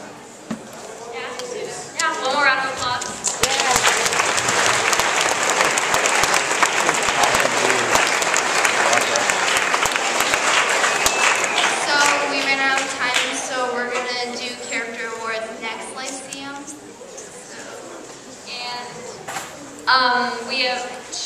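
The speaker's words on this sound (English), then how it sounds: "one more round of applause" Loud applause from a lecture audience at a talk on patriotism swells quickly and holds for several seconds, then thins out as a voice takes over.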